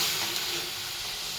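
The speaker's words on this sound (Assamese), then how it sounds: "মছলাখিনি ভালদৰে ভাজি ল'ম।" Masala paste frying in hot oil, with turmeric added, for a spicy bhelpuri; a steady close hiss of sizzling fills the short moment without talk.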